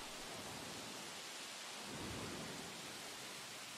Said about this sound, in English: It's a bit rainy as well.